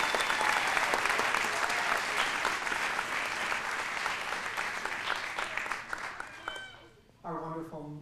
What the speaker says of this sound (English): Can we have another round of applause for our students?